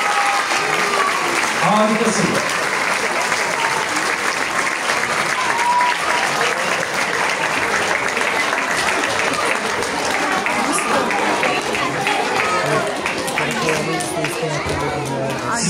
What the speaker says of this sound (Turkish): Cenk Adil Karakayalı'na en büyük alkışlarla tebrikler.